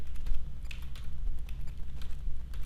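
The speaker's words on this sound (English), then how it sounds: "I'm just using my arrow keys and the page up and page down." Computer keyboard keys tapped in a steady irregular series of soft clicks, arrow and page up/down presses over a low background hum, no voices.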